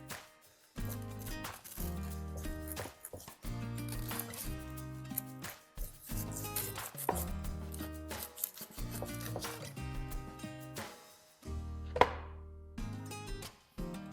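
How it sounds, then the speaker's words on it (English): A plastic scraper spatula scrapes around the edge of a ceramic loaf pan in a series of close, rough, rasping strokes with short pauses between them, and a few sharper knocks break up the scraping. "I'm gonna use my little scraper spatula. This thing is plastic. And I'm gonna go around the edge of this"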